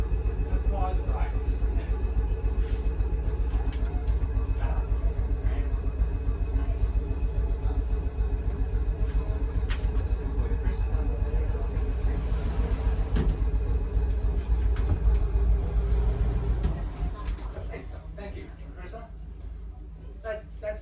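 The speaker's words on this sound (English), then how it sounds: "That's the air compressor, which provides us air for the brakes and the sliding doors and the windscreen wipers." An air compressor aboard a W Class tram at the Ballarat Tramway Museum, supplying air for the brakes, doors and wipers, runs as a steady low drone and rumble, then winds down and fades near the end.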